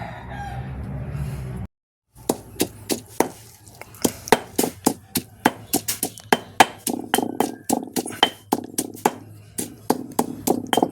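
Rhythmic thuds of pounding in a mortar repeat steadily, about two per second, loud and close, after a brief opening of background noise and a short pause.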